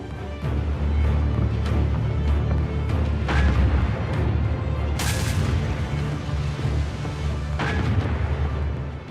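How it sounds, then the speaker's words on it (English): Naval gunfire as the British warships Hood and Prince of Wales open fire on the battleship Bismarck: a low rumbling bed broken by several sharp, loud blasts at spaced intervals. "When they reached 29 kilometers, they opened fire."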